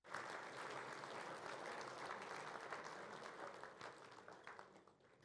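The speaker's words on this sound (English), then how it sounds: "A round of applause for the 22 and SEN Division 3 Team of the Year." An awards-night audience at the Chandler Medal applauds steadily, a dense, even wash of clapping from a large crowd that fades a little toward the end, with no voices above it.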